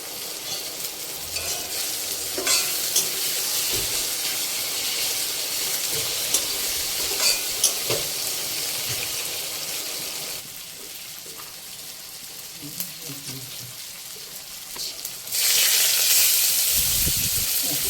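Whole cumin seeds sizzling in hot oil, a steady, close hissing fry running throughout that dips slightly in the middle and then swells louder near the end, with faint clinks of a utensil.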